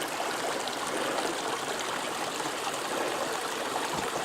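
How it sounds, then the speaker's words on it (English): Spring water flowing out of the ground right above a hiking trail, a steady close-up rush and trickle that continues without pause and with no voices. "Here is a really good sized spring flowing out of the ground right above the trail."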